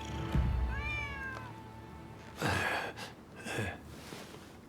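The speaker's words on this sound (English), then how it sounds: "Who'd have thought a stray cat would wander in?" A stray cat in the game Rise of the Ronin gives a clear drawn-out meow, followed by soft breathy gasp-like sounds and faint background ambience, no speech.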